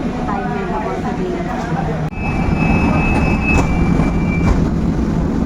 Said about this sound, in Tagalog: nakasakay na tayo dito sa MRT ng Masirin going to Soboga